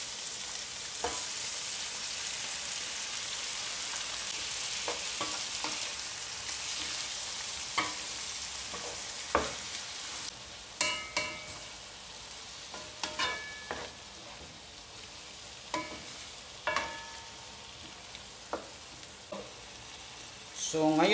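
Fresh tomatoes fry with beef kema in a pan for an Arabic-style dish, giving a steady soft sizzle broken by scattered clinks and scrapes of stirring.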